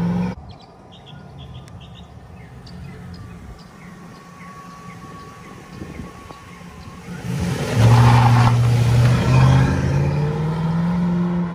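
A 2008 Chevrolet Silverado LS single-cab pickup with a V8 and Ridetech coilover suspension drives off, a low engine hum that swells into a louder rumbling pull partway through, with birds chirping faintly outdoors.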